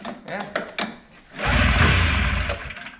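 A two-stroke snowmobile engine runs close and loud, a steady buzzing drone that rises and holds after a few brief knocks, with people talking over the start.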